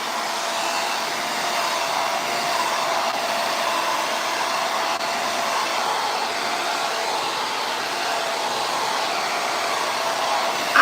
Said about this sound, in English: This is the Yellowbird blow dryer.